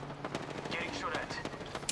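Rapid gunfire rattles in Apex Legends, quick bursts of shots crackling at moderate distance, fairly quiet overall and mixed with a voice talking.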